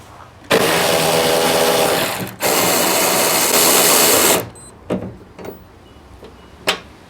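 A Durofix G12 12V cordless ratchet whirs loudly and up close in two sustained bursts of about two seconds each, then gives a few short clicks and bumps.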